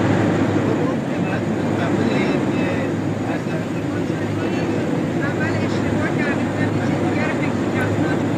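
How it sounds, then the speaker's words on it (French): Steady loud cabin drone inside the imperial airplane in flight carrying the Shahbanu on a provincial tour, a constant low engine roar filling the whole stretch without pause. "Dans l'avion impérial, la Shahbanu Farah est en route pour une tournée en province"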